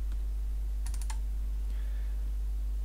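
Computer keyboard typing while entering a formula in an Excel spreadsheet: a quick cluster of four or five light, close key clicks in the middle of the clip, over a steady low electrical hum.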